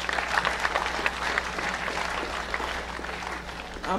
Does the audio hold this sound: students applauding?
yes